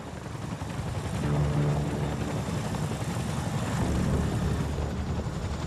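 Steady rotor and engine roar of a Chinook helicopter in flight, a dense continuous drone that holds at constant loudness throughout, with no voices.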